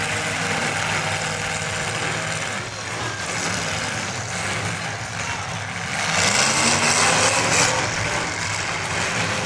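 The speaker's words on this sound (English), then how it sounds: "You can hear the motor lugging down as he tries to put it into gear." A race car motor rumbles and lugs down at a dirt track as the driver tries to shift into gear, a dense, steady engine drone that swells louder near the end, with faint commentary underneath.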